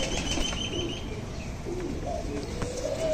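A high flyer pigeon gives soft, low cooing calls in short phrases over a steady background hiss, with a faint flutter of wings nearby.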